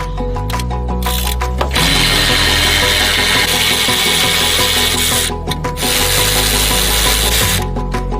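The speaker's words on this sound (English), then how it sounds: "Take these bolts off." Ratchet turning out bolts on the rear strut end link of an Audi RS3, a close, loud, continuous rasping clatter with brief pauses between bursts.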